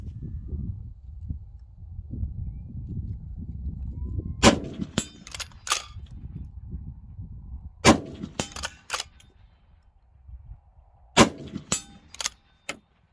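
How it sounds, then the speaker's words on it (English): Savage Impulse straight-pull rifle fired from a bog pod without a muzzle brake: several sharp, loud shots in separate clusters, each with ringing metallic clangs, over quiet low background rumble. "we're shooting it sans muzzle brake at the moment"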